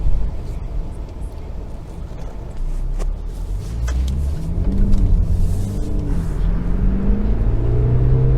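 A Jaguar XE engine rumbles and rises in pitch as it accelerates, a steady building drone heard from inside the car.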